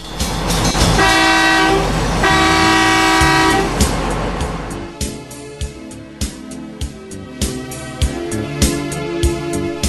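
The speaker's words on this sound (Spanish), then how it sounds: "Para salir desde la bomba de combustible, toque 2 bocinazos, con lo cual indicará que va a ir hacia adelante." A cargo truck's horn blares in a long sustained blast, followed by a break and then a sharp repeated clattering, loud and close, with no voices.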